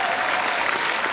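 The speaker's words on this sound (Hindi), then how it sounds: "इसके लिए भी जोरदार तालियां।" Loud studio audience applause on a comedy talk show, a dense burst of many hands clapping that fills the short moment evenly.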